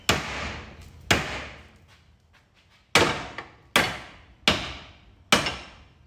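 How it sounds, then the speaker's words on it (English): A big hammer striking car parts, six sharp, loud metallic blows spaced unevenly a second or so apart, each ringing briefly before decaying, close up with no talk. "I've got a big hammer and I'm hammering stuff"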